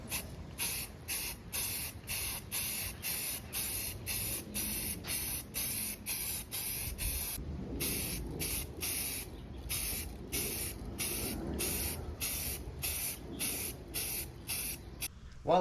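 Primer sprays onto a Miata dashboard in a long run of short, even hissing bursts separated by brief pauses, fairly close and steady throughout.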